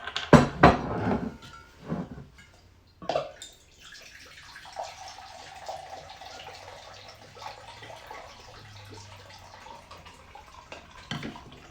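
Six ounces of vodka are poured into a mason jar for a Moscow Mule: a few glassy knocks, then a steady close trickle of liquid that fades off.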